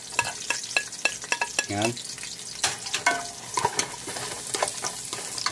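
Garlic sizzles in a pan for banana blossom sisig, a crackling fry broken by repeated sharp spatula scrapes and taps, with a brief voice heard over the cooking.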